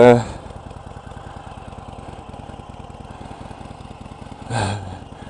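A 2015 Harley-Davidson 883 Iron idles close by, its V-twin giving a steady loping throb throughout, with a louder burst at the start and a brief blip near the end.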